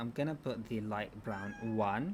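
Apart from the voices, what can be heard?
domestic cat meowing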